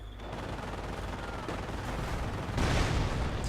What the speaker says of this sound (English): There's a MG42 in there right now from Rock.